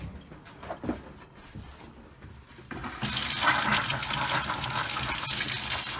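Water gushes steadily from a tap in an RV on city water hookup after a quieter stretch of background noise, a loud continuous rushing flow.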